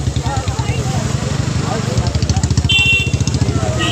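Motorcycle engines idling and revving on a crowded road as bikes push in, a steady rumbling drone with pulsing beats, close and loud, with people shouting and talking over it.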